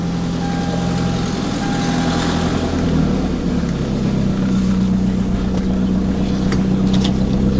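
A 2009 Toyota Camry Hybrid with an active check engine light accelerates on a test drive. The engine and road hum is loud and continuous, and the drone rises in pitch as the car picks up speed, with no speech.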